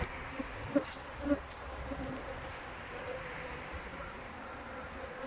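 Steady buzzing of many honey bees around a hive, a continuous drone with occasional louder passes close by, no talking.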